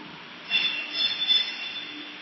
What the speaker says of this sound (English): there's a train arriving